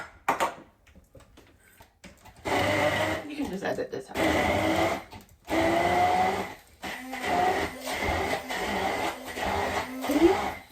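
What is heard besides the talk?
handheld stick blender blending chilies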